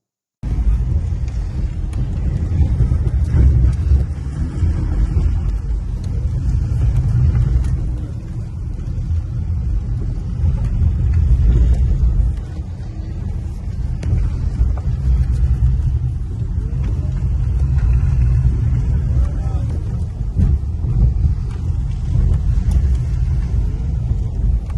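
Caterham race car at a test track, heard onboard from the passenger seat as it slides around: a loud, continuous low engine roar and road rumble that rises and falls with throttle, with no clear speech.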